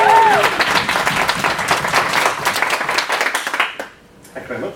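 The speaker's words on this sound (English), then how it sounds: "giant round of applause. Prove that you can still applaud for me." A large audience breaks into sustained applause for a speaker at a talk, dense clapping that swells loud and steady before tapering into quieter scattered claps.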